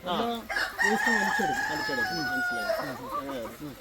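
Hens at a high-tech egg-laying poultry farm, heard as a dense, continuous chorus of clucking and crowing calls, fairly loud and close throughout.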